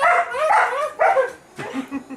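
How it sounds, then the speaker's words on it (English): A dog lets out several shrill, high-pitched barks in quick succession, close and loud, ending in a short whining yip. "She has the shrillest bark."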